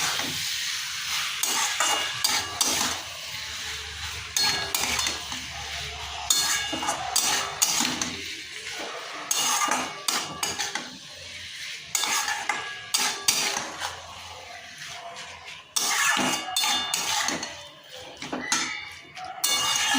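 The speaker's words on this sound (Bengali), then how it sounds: "ভালো করে মশলাটার সাথে মাছটা কষে নেব।" Raw prawns being stirred into masala in a pan, with busy, continuous clatter and scraping of a spatula against the pan over a soft sizzle, close and without talk.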